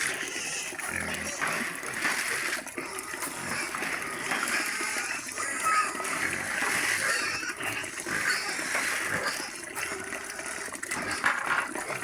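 Pigs in a pen with water splashing and gushing around them, amid grunts and oinks, while a person talks intermittently over the steady wet noise.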